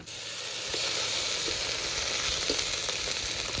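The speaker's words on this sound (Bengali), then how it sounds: "আদা রসুন বাটা দিয়েও খুব ভালো করে ভেজে নেব" Ginger garlic paste and onion fry in oil for a chicken curry, giving a steady close hiss and sizzle with a few soft stirring scrapes and no voices.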